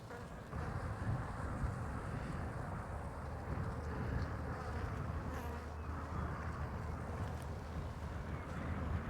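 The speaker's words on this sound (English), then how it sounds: "There's plenty of bees and they're acting content" A dense, steady buzzing of many honeybees at a hive, close and continuous, with a low rumbling undertone throughout.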